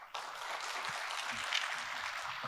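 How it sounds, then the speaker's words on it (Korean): An audience claps at a Seongnam city policy forum on rebuilding first-generation new towns, with dense, even applause that starts abruptly and holds steady for a couple of seconds, heard from some distance. "박수 부탁드립니다"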